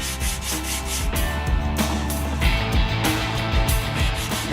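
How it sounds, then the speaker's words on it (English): Wooden pieces for a caboose sill being sanded by hand, a continuous rhythmic rasping rub with repeated strokes, close and fairly loud. "Now we're sanding it so it comes right up to the line."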